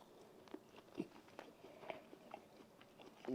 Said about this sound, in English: let's go ahead and give it a taste test